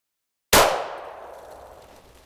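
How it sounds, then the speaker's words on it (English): A Taurus handgun firing zinc ammunition gives a single sharp, loud shot with a ringing metallic decay that fades over about two seconds after a moment of silence. "I've never shot this zinc ammo in this Taurus"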